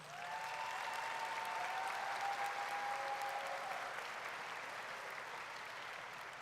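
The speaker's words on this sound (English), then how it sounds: "Let's give Superintendent Byrd a round of applause" Graduation crowd applauding the superintendent at a Bartow Senior High ceremony: a soft, continuous wash of distant clapping from a large gathering, steady and even, with a faint tonal hum running beneath the first half.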